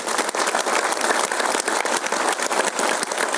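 Continuous brisk clapping from an audience at a mind-power training session, dense and steady throughout with a few sharper individual claps standing out.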